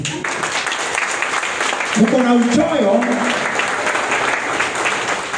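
A church audience applauds steadily at a Kenyan gathering, the clapping continuing throughout while someone speaks over it.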